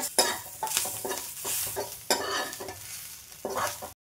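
Grated coconut frying with browned onions and tomato in a pan, with a close crackling sizzle broken by repeated stirring scrapes in uneven bursts, ending abruptly in silence.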